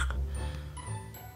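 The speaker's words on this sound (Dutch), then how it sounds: "Oh my god, het knettert." An ear wax candle burning close to the ear gives faint, irregular crackles and ticks over a quiet, low hum.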